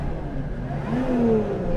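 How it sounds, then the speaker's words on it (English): A Lotus Evora Sport 410 engine in normal mode revs briefly, a moderate rising whine swelling over a steady low rumble for under two seconds, heard nearby without talk. "So I'll just rev it in normal mode."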